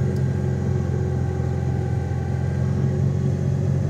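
A vehicle engine holds a steady fast idle of about 2000–2500 rpm to keep the alternator charging for a winch in a swamp. A deep, even rumble with a constant drone continues close by, and nobody speaks.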